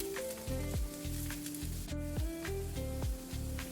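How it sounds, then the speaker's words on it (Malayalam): Two medium onions sautéing in coconut oil in a pan, a soft sizzle under a rhythmic series of low clunking stirs and scrapes with faint ringing tones, quiet and close. "അത് ചേർത്തിട്ട് നന്നായിട്ടൊന്ന് വഴറ്റി കൊടുക്കാം"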